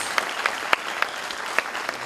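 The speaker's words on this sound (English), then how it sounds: "Please give a round of applause to all our degree recipients in Master of Architecture in 3 degree programs." Applause from the audience at a university convocation for Master of Architecture degree recipients, a steady dense clapping with a few sharper claps standing out, loud and continuous without speech.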